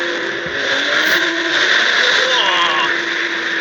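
A BMW M340i engine heard inside an autobahn tunnel, a steady, loud, enclosed roar with a continuous boomy hum and a slight rise in pitch partway through.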